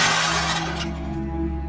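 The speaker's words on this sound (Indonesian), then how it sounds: "Orang-orang itu kemudian mulai membanting sebuah benda yang berada di dalam rumah. Tidak terkecuali piring dan gelas" A loud burst of breaking glass, like plates and drinking glasses being smashed inside a house, the crash fading into a ringing, scattered tail over about two seconds.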